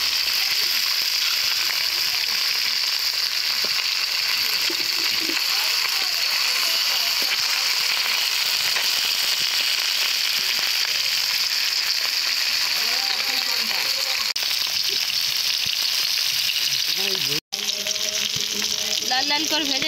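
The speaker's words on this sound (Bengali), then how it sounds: "পুঁটি মাছগুলো ভেজে নেব।" Puti fish (pool barb) fry in hot oil with a steady, close sizzle that runs throughout, with a few faint clinks and stirring scrapes near the end.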